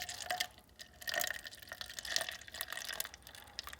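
Watery slurry from manganese dioxide extraction of old batteries is poured off into another vessel, giving close, soft splashes and drips with small clinks of glass in irregular bursts, quiet and without speech.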